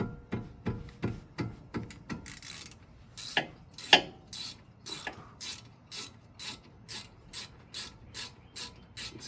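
A ratchet wrench loosens a brake caliper screw on a car, a steady series of sharp mechanical clicks in quick rhythmic bursts, loud and close with no talk.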